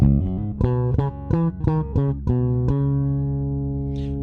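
A GF bass guitar with both pickups at maximum and no tone pedal plays a run of plucked, rounded notes at an even pace, ending on one note left to ring out and fade. No one speaks.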